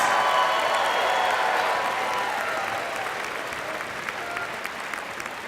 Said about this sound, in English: Let's give a nice round of applause to the Miss Fort Hays State Rodeo Queen